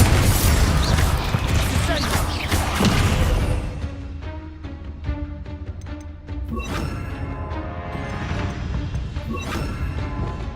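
A fiery Confringo blast in Hogwarts Legacy, a loud crashing explosion at the start that settles into scattered thuds, clanks and combat effects, with some talk in the background.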